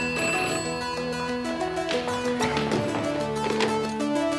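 A telephone rings with a repeating electronic tone, loud and close, over a steady musical background.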